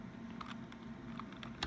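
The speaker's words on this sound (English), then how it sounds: "I'm going to type it in." Keys tapped on a computer keyboard, scattered soft clicks spaced irregularly over a faint steady hum, nearby and quiet, with no one speaking.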